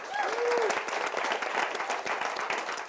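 An audience at a live arts stage show in Milwaukee applauds, steady dense clapping that stays strong throughout, with a brief whistle or voice rising near the start.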